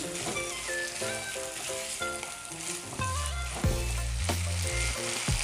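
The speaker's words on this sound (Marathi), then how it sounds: "चांगलं असं तेलामध्ये फ्राय करायचं आपल्याला, की जोपर्यंत टमाटा ना एकदम नरम होणार नाही आपला" Tomatoes frying in hot oil in a pan while cooking bhindi masala, a soft continuous sizzle running steadily underneath louder background music with melodic tones, no voices present.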